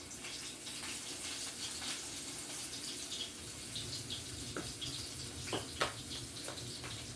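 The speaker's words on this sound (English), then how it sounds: "You want to completely coat your pork chops. And then just put it in to your oil." Breaded pork chops fry steadily in hot oil, giving a continuous hissing crackle with scattered sharper pops and spits that grow a bit more frequent toward the end, all without any talking.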